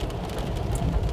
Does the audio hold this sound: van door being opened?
no